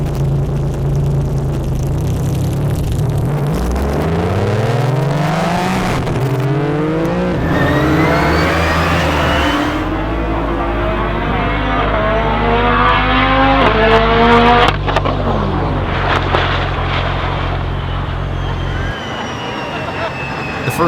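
An ETS Nissan GTR race car rated over 2500 hp roars loudly at a drag racing event, its engine revving and climbing through gears in long rising sweeps before cutting off near the end.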